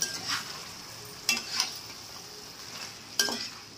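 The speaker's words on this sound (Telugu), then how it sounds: "ఇందులో కొద్దిగా పసుపు వేసుకుందాం. మొత్తం కలిపేసుకుందాం." Mutton curry being stirred in a pan after turmeric goes in, with a low steady sizzle and three or four distinct scraping strokes of a spoon against the pan, close and fairly quiet.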